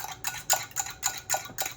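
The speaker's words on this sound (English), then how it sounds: "let's whisk the egg and put it in" An egg is whisked in a bowl for cookie dough, with about seven quick, bright clinks of the whisk against the bowl in a steady rhythm, close and moderately loud.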